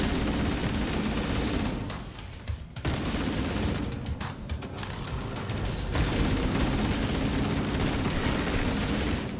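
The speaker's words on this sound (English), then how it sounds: "I really adore this assault rifle" Sustained assault rifle fire in a Halo campaign, loud and near, a dense continuous stream of shots with brief lulls and explosive booms under it.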